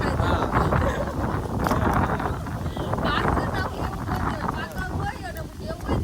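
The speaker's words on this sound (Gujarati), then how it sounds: "આજ પવન બહુ છે" Loud, steady wind roars and buffets the microphone throughout, with a voice talking faintly underneath.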